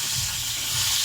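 Yardlong beans and long-cut potatoes fry in hot oil, giving a steady, close, even sizzle and hiss with no pauses.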